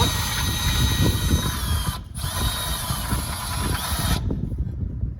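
A jack arm on a 2023 Wildwood 32BHDSX RV is loosened and raised with a continuous close metallic ratcheting and grinding that dips briefly midway before carrying on. No one talks.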